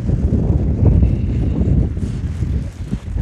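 Wind gusts steadily across a UK beach during winter cod fishing as darkness falls, a continuous close rumble and buffeting on the microphone with slight rises and dips and no talk.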